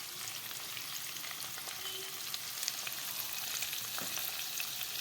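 Capsicum, peas and other mixed vegetables fry in hot oil for restaurant-style fried rice, giving a steady, close sizzle with light stirring and no talk.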